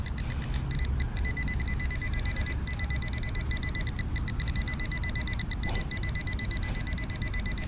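A Nokta Fors Core metal detector sounds a repeated high-pitched tone over a buried target, with steady beeping pulses over outdoor rumble.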